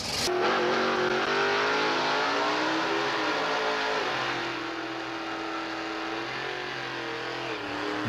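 Drag race cars, including a 1961 Corvette, in a junior stock match race at a drag strip: loud sustained engine roar with rising revs as the cars accelerate away, steady and close, no voices.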